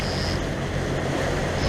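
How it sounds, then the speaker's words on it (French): Steady wind and sea wash around a sailing boat under way off Toulon, heading toward Porquerolles: a continuous, fairly loud broadband rush with no talking. "il y a un peu de mer, il y a un peu de vent pour sortir"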